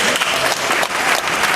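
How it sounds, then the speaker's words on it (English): A speech audience claps in a short, dense burst of applause, loud and close. "think that deserves booing, not clapping."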